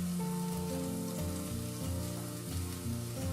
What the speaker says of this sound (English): put 2 tablespoons of oil in the frying pan and add in the chopped garlic